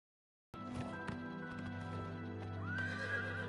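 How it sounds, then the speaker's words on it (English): Horse hooves galloping in the video game Oblivion Remastered, a steady clip-clop rhythm with a whinny, close and continuous over a low ambient game backdrop, no talking. "this is why Shadowmare is the best horse in the game"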